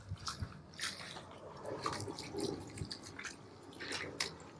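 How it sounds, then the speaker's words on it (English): A water hose rinses old oil and dirt from an oiled MWR air filter, a faint, irregular splashing and dripping close by. "we're gonna go ahead and come in here with our water hose and we're just gonna rinse her off"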